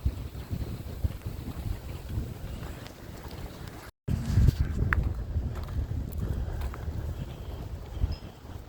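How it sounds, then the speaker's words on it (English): Breezy wind buffets the microphone outdoors on a paved nature preserve trail walk, a steady rumbling gust with a brief cut midway and faint footsteps, no talk. "It is very breezy today."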